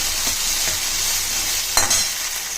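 Ivy gourd and tomato sauté in a hot pan, giving a steady, close sizzle broken by a few scraping stirs, with no voices.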